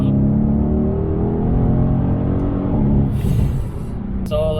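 2018 Mercedes-AMG C63 S with a 4-liter twin-turbo V8, revving and growling loud and close, the engine note swelling then easing off near the end.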